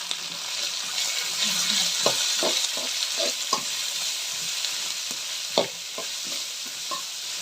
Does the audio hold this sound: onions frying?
yes